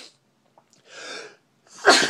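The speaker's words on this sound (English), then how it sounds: "I love to sneeze." A single loud human sneeze, preceded by a short intake of breath, close to the microphone and with no other sound around it.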